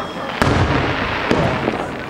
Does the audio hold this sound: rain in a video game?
no